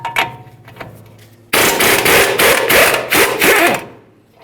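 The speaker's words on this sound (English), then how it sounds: "giving this a couple loving bonks to try to drive it out of the control arm" Several loud metallic hammer blows drive a front strut out of the lower control arm on a 2003-2011 Mercury Grand Marquis, a rapid cluster of ringing bonks after a quieter start.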